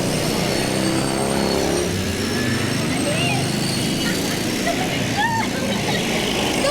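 Road traffic streams past as children head home from school, a continuous close engine drone and tire rush with passing vehicles, while children's voices and chatter ring out over it.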